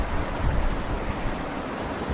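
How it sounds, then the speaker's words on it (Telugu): Water pours down Tirathgarh waterfall in Chhattisgarh, producing a continuous broadband rushing roar at moderate level from a viewpoint, steady throughout with no voices. "ఇక్కడ నుంచి పైనుంచి వాటర్ ఫ్లో అవుతూ ఉంది."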